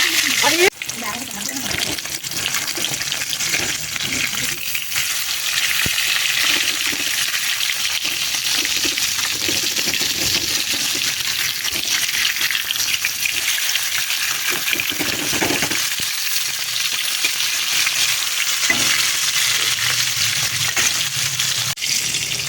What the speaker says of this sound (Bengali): গরম হয়ে এসছে কড়াই, এখন আমি মাছগুলোকে একে একে ছেড়ে দেবো।